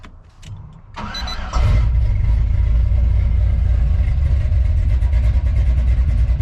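Truck engine fitted with a new exhaust starts and then holds a loud, steady deep rumble with a low thump, close by, with no talking.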